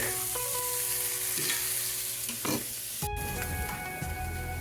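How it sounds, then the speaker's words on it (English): Beef browning in a pan for a French peasant stew, giving a steady sizzle and frying crackle throughout with a few utensil clinks and stirring scrapes, one sharp clatter near the end, and no talk. "while the beef is browning"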